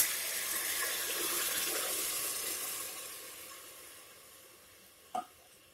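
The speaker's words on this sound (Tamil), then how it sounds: "நான் 2 கப் அரிசிக்கு இப்போ 4 கப் தேங்காய் பால் ஆட் பண்ணுறேன்." Coconut milk poured into a pot of rice for pulao, a steady liquid rush and light sizzle that gradually fades, ending in a single brief knock.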